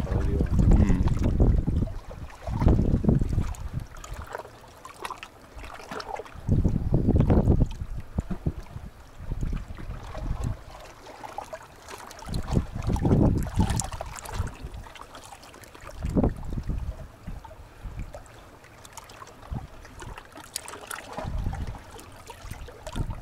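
Wind gusts buffet the shore at the water's edge, rising and falling in repeated low rumbling bursts over a steady background of lapping water, fairly loud and with no voices.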